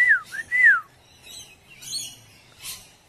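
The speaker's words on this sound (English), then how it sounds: "Birds everywhere." Rainbow lorikeets call from a tree in a pair of sharp, swooping shrill notes up front, followed by softer scattered chirps and a final squawk, moderately close with no talking.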